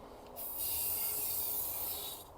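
A loud, steady hiss of Lanoguard aerosol being sprayed onto a Mazda MX-5 NC, starting abruptly after a short pause, holding for about two seconds, then tailing off.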